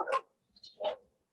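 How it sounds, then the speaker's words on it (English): A pet dog lets out two short, close barks with a faint yip between them, sharp and separated by brief silence in a quiet room. "You'll notice that my dog is here."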